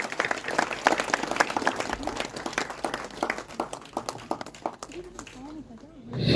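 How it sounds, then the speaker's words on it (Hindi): Audience applause at a Garhwali film event, lively rapid clapping from a crowd for several seconds that fades out as a voice begins speaking over it. "जोरदार तालियां।"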